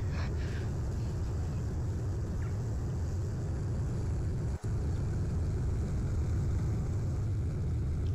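Continuous low engine drone of a propeller airplane in a Roblox game, steady and even throughout with no talking.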